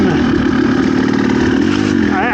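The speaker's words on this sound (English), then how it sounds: "get kind of drunk on the noise of two-stroke. Like that noise" A GPX TSE300 two-stroke dirt bike engine held at a loud, buzzing high rev, steady and close, with a brief rise and fall in pitch at the end.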